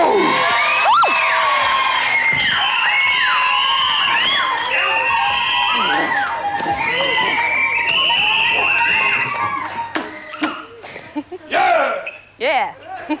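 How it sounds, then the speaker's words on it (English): A young studio audience on the 1988 children's TV show Motormouth cheers, whoops and shouts loudly and close. The din runs for about ten seconds and then breaks into scattered yells as a voice speaks over it. "come on, lots of cheering, lots of noise."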